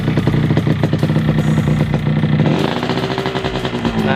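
A Yamaha RX King two-stroke motorcycle with a factory-standard engine runs steadily just after being started, a loud close rattling idle with a slight shift in pitch partway through.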